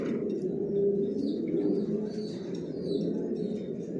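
Racing pigeons cooing inside a pigeon loft, a steady low murmur of overlapping coos filling the space without pause, moderately close and fairly loud.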